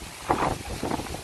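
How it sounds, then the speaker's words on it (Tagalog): Strong wind at the Sol y Viento seaside resort rushes steadily past the microphone, with low rumbling gusts that swell and fade across the short stretch. "Sobrang hangin, mga katulad. Narinig niyo ba dyan sa screening?"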